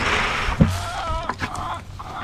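Chickens pecking at grain poured onto bare dirt outside make soft, scattered clucks and short calls close by, with one louder burst early on.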